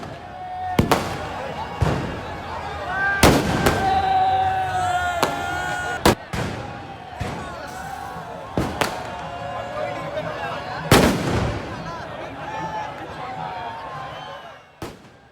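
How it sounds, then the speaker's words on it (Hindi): Fireworks going off in the streets during celebrations after India beat Pakistan in a T20 World Cup match, with repeated sharp loud bangs at irregular intervals over crowd noise and voices. "मद्दाहों ने सड़कों पर निकलकर आतिशबाजी की और जश्न मनाया"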